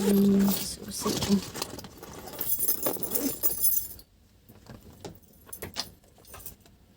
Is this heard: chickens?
no